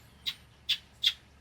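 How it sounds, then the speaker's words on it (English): Small monkeys on Monkey Island near the Panama Canal give three short, high-pitched squealing calls, bird-like chirps spaced evenly apart, fairly faint over quiet background. "They're making like a really high-pitched squealing noise, the monkeys."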